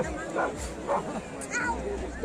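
A dog barks three times in short, evenly spaced yelps amid crowd chatter and babble at the San Roque fireworks festival in Vilagarcía de Arousa.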